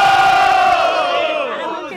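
Crowd at a student rap battle in Guarulhos yells and cheers loudly in one sustained roar that slowly fades over two seconds.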